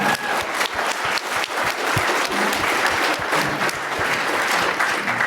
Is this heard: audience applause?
yes